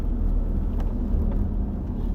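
A Land Rover Discovery LR4 pulls away with a steady low engine rumble and tyre whir, moderately loud and continuous, with no talking.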